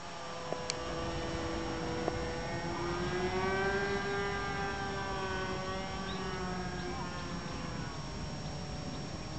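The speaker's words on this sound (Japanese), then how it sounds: "回ってるわエンジン" Small glow-engine RC model airplane running on the ground, a thin steady buzzing drone that rises and falls in pitch as the throttle shifts, fairly close, with people talking quietly around it.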